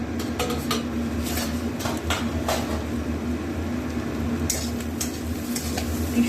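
A cooking pan of crispy fried mourola fish is lifted off a home kitchen stove, giving a few light metallic clinks and scrapes over a steady low hum.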